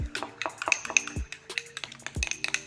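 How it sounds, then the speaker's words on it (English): Lemon zest dressing for a beet and arugula salad being whisked in a bowl, a quick run of close metallic taps and clinks with bright ringing pings. "I'm just gonna whisk this together, or mix this together"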